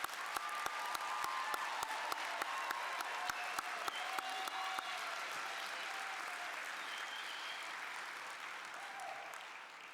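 A large hall full of people claps for new graduates at a winter university commencement, steady crowd applause with distinct close claps punctuating the first few seconds before it gradually fades.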